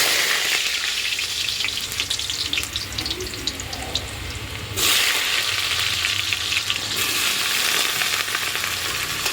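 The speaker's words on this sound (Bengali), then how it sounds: "তাহলে আলুটা আগে ভেজে নিই, মোচা ভালো করে লাল লাল করে আলুটা ভাজবো।" Potatoes frying in a pan for a Bengali home meal, a steady broadband sizzle that carries on throughout with a brief louder surge midway, close and with no talk.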